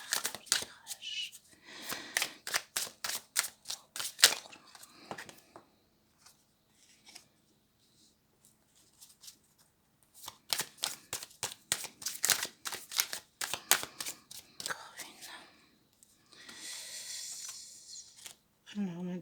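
Tarot cards drawn from a deck one after another, a rapid run of crisp flicking and shuffling snaps in quick bursts with pauses between, close to the microphone, with soft speech in places.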